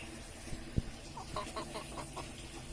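A single white backyard chicken gives a few soft, close clucks and short rising calls in a quick series, faint against a quiet background.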